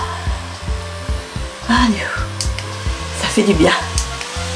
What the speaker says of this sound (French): je vais mettre un coup de ventilateur